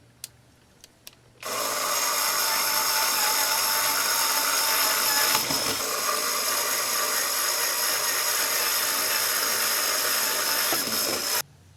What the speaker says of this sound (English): So I have a drill bit here, and I'm going to go and drill out my marks that I've made.